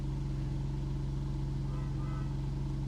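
A 2023 Maserati MC20 with a full Capristo exhaust, rear bumper removed, idles with a steady deep low rumble close by and a slight rise in revs toward the end, with no talk.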